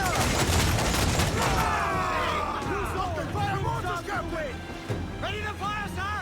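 Ship cannons fire in a broadside during a naval battle in Assassin's Creed Black Flag, with loud booms and crackling volleys at sea while crew voices shout over the continuous din.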